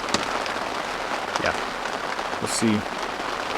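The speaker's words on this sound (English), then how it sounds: "I'm getting a lot of rain" Steady heavy rain hisses across a high-elevation garden bed, a dense even wash of drops throughout, with a brief spoken remark cutting in near the end.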